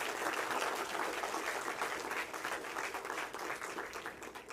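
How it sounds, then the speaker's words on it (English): An audience gives sustained applause after an inaugural university lecture, a dense, even wash of many hands clapping in a hall that carries on without a break. "Shall we give another big round of applause to our Professor Chan?"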